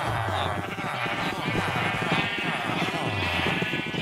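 Sheep in the Minecraft video game bleat repeatedly, several overlapping calls in a steady cluster over a few seconds, fairly loud and close.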